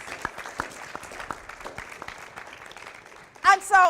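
A thin patter of audience clapping at a math conference for a young Bahamian entrepreneur, sparse and steady under a quiet room, before a voice begins speaking near the end.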